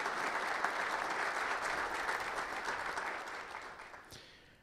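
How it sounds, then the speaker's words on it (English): Audience at a lecture breaks into a round of applause, steady clapping that gradually fades away toward the end. "So please recognize them with a round of applause for allowing us this opportunity."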